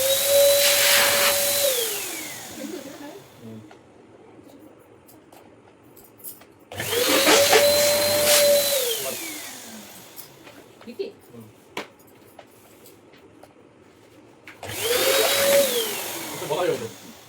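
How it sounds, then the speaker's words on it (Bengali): An electric balloon inflating machine pumps up balloons at a family baby shower, three loud whirring bursts of a couple of seconds each with quieter gaps between them, while people talk in the background. "এই যে বেলুন, এই যে ফোলানোর মেশিন"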